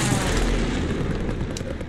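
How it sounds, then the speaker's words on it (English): A deep, rumbling explosion from a precision airstrike in Call of Duty Warzone, a sustained low roar that fills the whole moment and slowly fades. "Precision airstrike missed."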